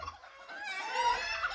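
Frightened chickens in a backyard cluck and squawk in an agitated cluster, fairly close and overlapping, with a noisy rustle underneath and no talking.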